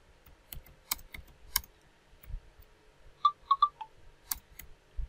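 Computer keyboard typing, a few sparse close clicks and taps separated by pauses, with a quick cluster of brighter key clicks midway, quiet overall.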